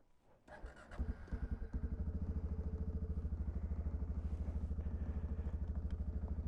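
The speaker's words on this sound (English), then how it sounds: "So I figured I would do a little vlog of my Suzuki Kingquad. Get this thing started up." A Suzuki KingQuad ATV engine cranks briefly in a cold winter setting, catches, then settles into a loud, steady, close idle with a rapid even thumping pulse.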